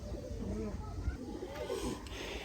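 Pigeons, Sialkoti breeder birds, coo softly at close range in a few low, rolling calls over a murmur of background sound.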